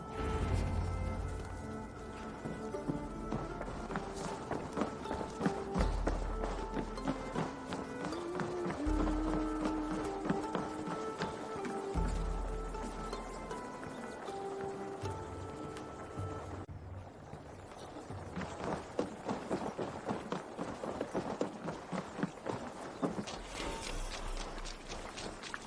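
Horses' hooves clip-clop steadily in Assassin's Creed Valhalla, Wrath of the Druids near Dublin, a continuous trotting rhythm under a layered game score with a brief shift midway.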